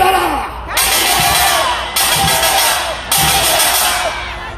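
A large crowd at a Korean political rally protesting alleged election fraud shouts a slogan in unison, in three loud, roaring bursts of massed voices about a second apart, close and echoing across an open outdoor space.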